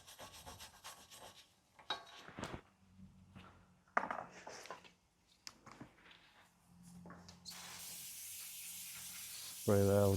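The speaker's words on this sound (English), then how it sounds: "Spray that with a little bit of brake cleaner" Scrubbing and rubbing noises give way to a steady, broad aerosol brake cleaner spray hiss on a Hyundai Sonata front brake part that runs for several seconds, ending in a louder burst.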